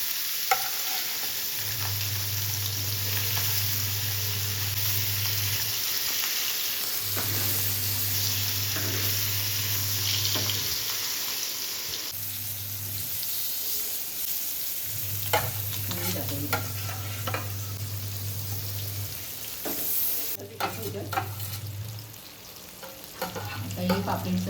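Fish fries in a hot pan with a continuous loud sizzle and scraping stirring, set against a low humming background throughout.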